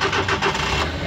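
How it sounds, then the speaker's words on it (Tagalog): The engine of a Suzuki DA64V van idles roughly with a shaking, uneven pulsing rumble, heard close and loud with no talk over it. "So grabing kuroga ya makina."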